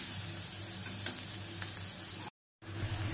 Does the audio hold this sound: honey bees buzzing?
no